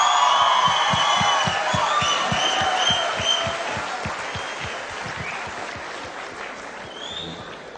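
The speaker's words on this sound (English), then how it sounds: "Big round of applause." An audience at a student conference on company law applauds as speakers are welcomed onto the dais, loud crowd clapping with a few whoops that gradually tapers off, with a sharp rhythmic tapping running underneath.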